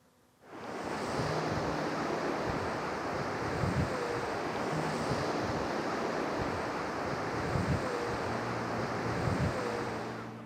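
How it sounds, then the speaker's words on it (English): Surf rolls in steadily at Durness Beach in the far northwest of Scotland, with wind buffeting the microphone throughout and repeated wave washes rising and falling, loud and close, no voices. "This is Durness Beach."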